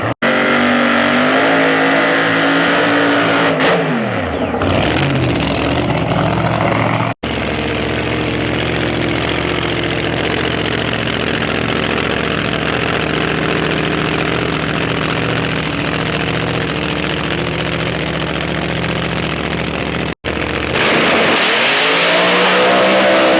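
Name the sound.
Pro 275 nitrous drag racing car engine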